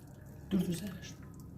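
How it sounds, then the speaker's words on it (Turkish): Meat stock from lamb shanks is poured slowly over orzo pasta in a pot, a short close splash of liquid that swells and then trails off quickly while someone talks. "Şöyle şöyle üzerine yavaş yavaş gezdirerek 8 su bardağı etimizin suyunu"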